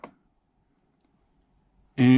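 A single sharp click on an HP laptop sounds at the start, followed by near silence and a tiny tick before a voice begins speaking at the end.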